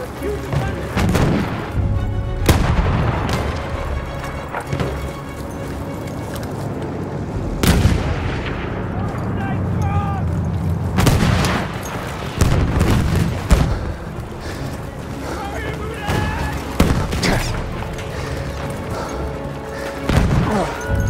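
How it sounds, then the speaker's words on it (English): Enemy artillery barrage in Battlefield 1, a long run of heavy explosions and thudding impacts landing at irregular intervals, some close and loud, over constant battlefield gunfire and rumble. "for the enemy artillery barrage to stop firing"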